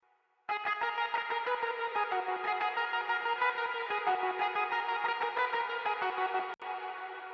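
Electric guitar with a layered synth doubling it an octave higher, treated with hall reverb, chorus and dual delay, playing a sustained bright chordal phrase for several seconds before a brief break and resuming, without any voices.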